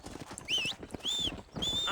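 Horse hooves clip-clopping in the Red Dead Redemption video game, a steady rhythmic stream of hoofbeats under high whistling tones, moderately loud and close.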